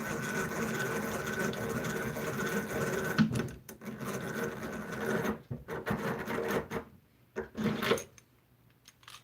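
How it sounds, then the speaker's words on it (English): A power drill drives a countersinking screw into wood, a steady whirring grind for several seconds, then it stops and restarts in short bursts before falling quiet. "Lets me run the screw down in. It countersinks the hole at the same time."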